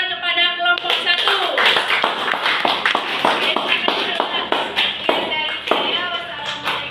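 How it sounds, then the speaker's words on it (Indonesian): Classmates clap for a presenting student group, a lively run of individual hand claps with uneven rhythm, while voices speak over the start and end of the applause. "Silakan tepuk tangan kepada kelompok 1."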